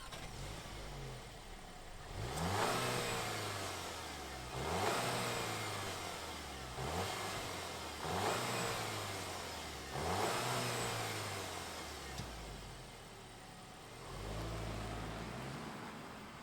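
A 2023 VW Arteon sedan engine revs up in repeated swells, rising and falling about every two seconds before settling to idle. Recorded close, with no voices.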